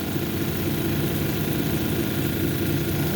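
Cabochon grinding wheels run steadily while a piece of picture jasper is shaped against them, a constant close motor hum and whir with no pauses or talk.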